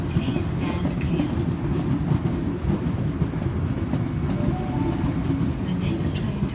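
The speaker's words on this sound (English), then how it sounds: "This train is now due to depart. Please stand clear." A Sydney Trains train pulls out of Penrith station, with a steady rumbling roll and a faint clickety-clack continuing throughout at a constant moderate loudness, with no audible talk over it.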